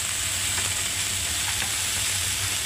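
Chopped long beans and potatoes frying in a wok give a steady, loud sizzle with faint stirring scrapes, continuous throughout with no talk.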